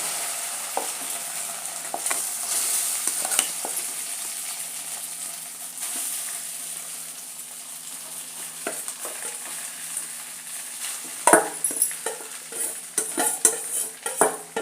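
Soaked poha is stirred into a pan with cumin, sizzling steadily while a spoon scrapes and clinks against the metal, the clatter growing busier toward the end.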